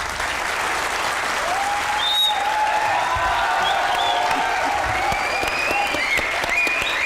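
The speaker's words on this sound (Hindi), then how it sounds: "जरा तालियां बजाएं" A studio audience at a comedy show claps steadily for about seven seconds, a loud even roar of applause with faint tonal sounds and whistles running over it.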